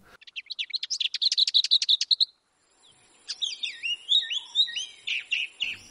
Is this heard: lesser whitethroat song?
yes